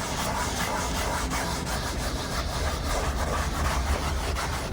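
Continuous rough rubbing of a scrub brush in circles on a wet automotive leather seat, with a steady scraping texture, close and fairly loud, with faint rhythmic strokes throughout and no talking.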